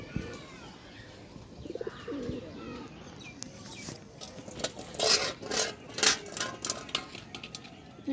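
Black birds with red eyes coo and chirp at close range while feeding, soft cooing early on and then sharper clattering chirps and rustles that grow louder, with no voices.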